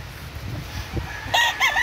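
Chicken sounds from a farm bird with a very long, drooping tail, a few short clucking calls rising near the end over low background noise, fairly close and moderately loud.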